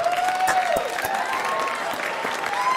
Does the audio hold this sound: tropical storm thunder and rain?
no